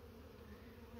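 Steady, close insect buzzing from bees, a continuous low drone holding at even loudness throughout with no voices.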